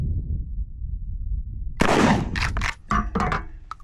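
Mossberg Maverick 88 shotgun firing a single sharp, loud blast outdoors, followed by a clanging impact and ringing echoes that trail off over the next second or two, with low background rumble before the shot.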